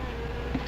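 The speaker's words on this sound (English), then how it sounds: "Wasps? You better be careful." Wasps buzz in a scene from the 1959 film The Wasp Woman, a brief, steady, close insect drone with a faint higher whine riding on top, heard alone without voices.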